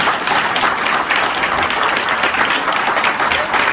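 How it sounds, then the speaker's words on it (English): Loud, continuous applause from the audience at a LULAC awards luncheon, thick and even for the whole stretch. "One more time, applause."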